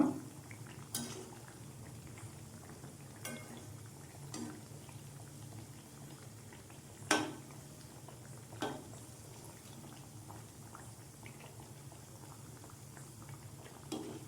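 Mini badusha frying in a pan of oil, a steady soft bubbling with occasional sharp clicks as the pieces are turned one by one.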